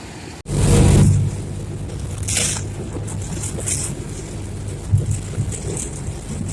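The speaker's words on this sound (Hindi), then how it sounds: "ये है दुबई का बंदरगाह।" Open-air rumble of boats in Dubai harbour, a steady low drone with wind buffeting the microphone and a few brief knocks, no talk.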